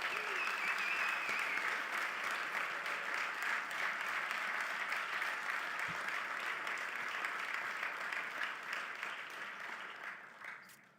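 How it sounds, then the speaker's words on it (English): An audience at an awards-style draft event gives a sustained round of applause, dense steady clapping that holds strong for several seconds before tapering off at the end. "Please join me in a round of applause to thank Dr. Stevens, who is tuning in from"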